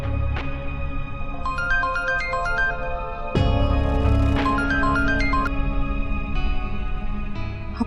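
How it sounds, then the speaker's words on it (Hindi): A mobile phone ringtone plays an incoming call with a bright repeating electronic melody in two bursts over a steady hum, loud and close with no talking. "ऑफिस से फोन है।"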